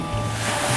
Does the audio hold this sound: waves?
yes